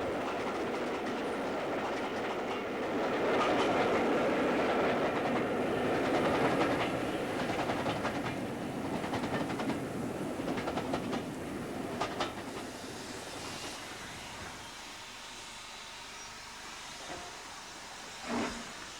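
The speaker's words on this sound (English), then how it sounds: "The train is now running off the main line in order to reverse direction." A model train rumbles past with a steady clickety-clack and hiss, loudest early, then fading away into quiet near the end.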